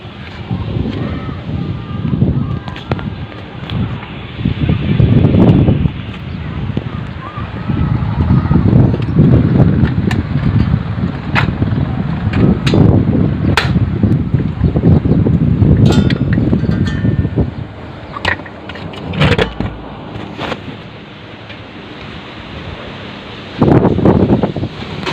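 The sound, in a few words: strong wind blowing outdoors in a village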